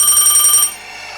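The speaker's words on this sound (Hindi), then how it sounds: "लेकिन अगली रात फिर से रात को 12 बजे फोन की घंटी बजी।" An old telephone's bell rings in a rapid, bright metallic trill that runs for a moment and then stops abruptly, leaving faint room hiss.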